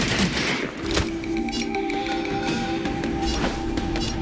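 A gunfire volley from the video game Honkai Star Rail rings out as a loud burst of rapid shots, followed by ringing tones and scattered impacts over a game soundscape.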